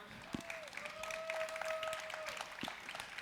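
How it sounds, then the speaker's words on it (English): An audience applauds as Bumblefoot is welcomed onto the stage at ZestFest Midwest. The light, scattered clapping and crowd noise run under sustained tones and a few sharp thumps. "Let's give a round of applause for my buddy Bumblefoot."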